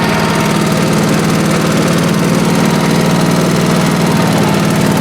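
A 1986 Honda HT3810 lawn tractor engine running steadily in third gear, a loud, continuous, close-up mechanical drone with a rough vibrating throb and no talk.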